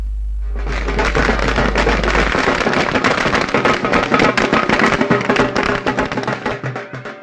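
A dense, continuous barrage of crackling pops and bangs from celebration fireworks, loud and sustained for several seconds before thinning out at the end.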